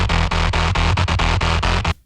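A heavily distorted synth bass, dropped an octave for an industrial metal track, pounds out a fast, tight, chugging rhythmic pattern of short repeated hits, loud and upfront, then stops abruptly.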